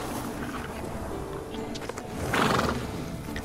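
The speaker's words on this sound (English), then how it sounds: "Hey, freaky-eyed horses." Horses in the video game Witcher 3: Wild Hunt let out a loud whinny over hoof clip-clop and steady ambient background.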